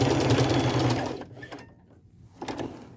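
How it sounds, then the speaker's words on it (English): A sewing machine runs fast and loud while stitching a hole closed in a plain white shirt, then cuts out after about a second, followed by a brief second burst near the end. "I'm just sewing that hole closed"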